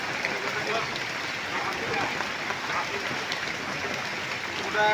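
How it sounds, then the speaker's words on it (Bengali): Steady rain falls with a dense, even patter throughout, while voices are faintly present. "কলিজা ঠান্ডা করার বৃষ্টি এটা"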